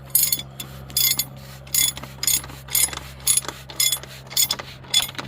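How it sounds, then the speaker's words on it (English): A ratchet with a 36mm socket tightens an oil filter on a DD15 diesel engine: close, crisp clicking bursts in about eight regular rounds, each a quick ratcheting rattle with short pauses between. "We're going to tighten that down with the same 36mm socket and ratchet that fell down earlier."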